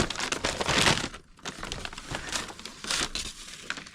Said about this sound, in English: We're going to carefully unwrap it here.